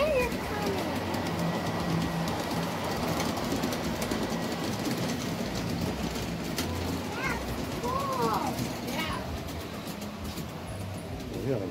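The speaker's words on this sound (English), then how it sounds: "Look, a train is coming." Model train rolls along the track of a large model railway layout with a steady, continuous rumble and faint clatter, plus a few brief chirps in the background.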